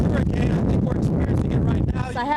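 Strong hurricane wind buffets a field reporter's microphone near the storm's eye, a continuous loud roaring rush with gusting low rumble throughout, while the reporter talks over it.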